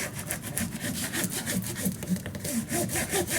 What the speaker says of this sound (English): And fold it over and burnish it down.